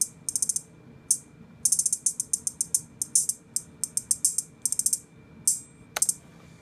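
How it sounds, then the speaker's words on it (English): Crisp, bright hi-hat hits in a beat pattern tick out in quick bursts and rolls with short gaps, close and dry over a faint low background. "So the second hi-hat pattern sounded like this"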